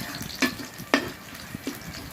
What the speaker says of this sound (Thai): มันต้องเจียวกระเทียมให้หอมก่อน